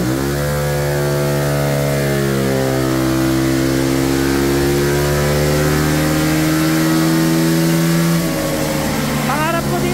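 A Honda ADV160 scooter engine revs steadily under load during a remap test on stock ECU, its harmonic pitch climbing and holding loud for several seconds before dropping, with talk over it.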